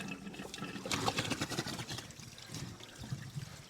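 Water trickles and splashes out of a pool pump as its housing is unbolted and separated, a steady close wet dribble with a louder burst of pouring in the middle before settling back to a light trickle.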